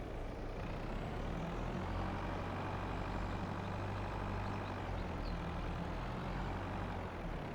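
A truck engine in Farming Simulator 22 rumbles at a steady low idle, faint and constant throughout with no talk.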